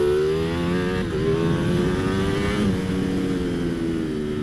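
A Ducati Panigale V4 SP2 engine roars steadily under way, a loud, close, continuous multi-harmonic drone with a slight pitch dip and recovery, and no talking over it.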